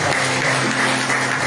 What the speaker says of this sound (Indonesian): Saya kira kita sambut dulu Pak Yohanes dan Ibu dengan tepuk tangan ya